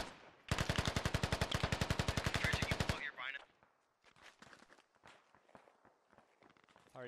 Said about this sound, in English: some of these rounds hitting really close here